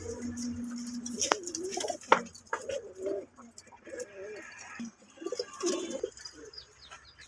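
A pair of black Saharanpuri pigeons coos in soft, repeated throaty rolls close by, with occasional chirps and faint rustling between the calls.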